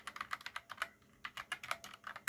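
Fingers type on a Trust GXT 80% mechanical keyboard, a close, quick run of clacky keystrokes with a short pause midway, then another burst of steady typing.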